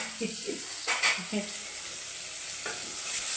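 Sorrel leaves frying in a pan, a steady hiss with a few spoon scrapes and faint background sounds, close by.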